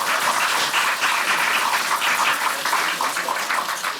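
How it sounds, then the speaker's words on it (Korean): A crowd at the launch of a cross-party political reform caucus claps in a thick, continuous wash of applause, loud and even throughout with no speech over it. "여러분 동의하시면 크게 박수 한번 보내주십시오."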